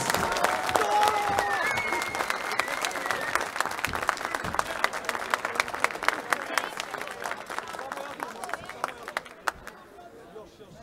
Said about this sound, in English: give one huge round of applause for your new world